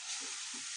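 Cream being stirred into a carrot mixture in a pan for gajar pak, giving a soft, steady sizzle with two gentle stirring scrapes over a short moment.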